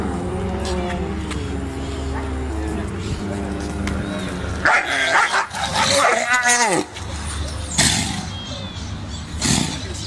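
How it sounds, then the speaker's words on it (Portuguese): A black dog barks and yelps in loud bursts midway, with animals that include two lionesses nearby and a constant background hum. "O animal preto é um cachorro."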